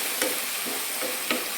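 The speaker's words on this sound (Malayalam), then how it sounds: "ഇനി നമുക്ക് നമ്മുടെ പീച്ചിങ്ങ ചേർത്ത് കൊടുക്കാം. നന്നായി ഇളക്കി കൊടുക്കാം." Ridge gourd is stirred in a frying pan for a Kerala-style curry. A steady sizzle runs throughout, broken by a few soft scraping stir strokes.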